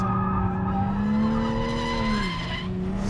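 Toyota Supra GTS tyres squealing and skidding under hard braking on a race track, a loud sustained tonal screech over steady engine noise, sliding down in pitch near the end.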